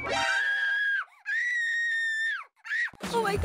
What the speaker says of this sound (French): Son doigt a changé de couleur et a commencé à crier à l'aide.